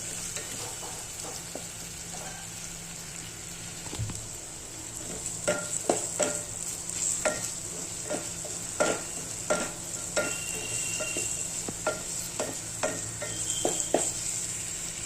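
Tomato roasting in a pan for matar batata rassa curry, with a steady frying sizzle and hiss under repeated scraping stirs of a spoon against the pan, close and moderately loud.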